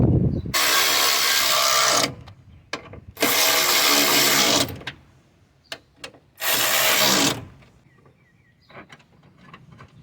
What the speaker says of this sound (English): I'm gonna be tightening the 10mm bolts first.